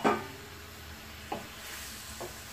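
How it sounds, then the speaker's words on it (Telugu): Noodles being stirred and mixed in a pan, with a few separate scraping clinks spaced across a soft, steady sizzle, close by and fairly quiet. "బాగా కలిపేసుకుందాం"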